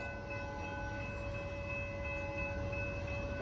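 An outbound commuter train at Downers Grove approaches a station without stopping. A steady low rumble runs under a sustained horn-like tone, and the sound swells slightly toward the end. There is no talk.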